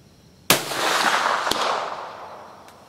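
A single loud shot from a Swiss Model 1878 rifle chambered in 10.4x42R, with a sharp crack followed by a long rolling echo that fades slowly across the range.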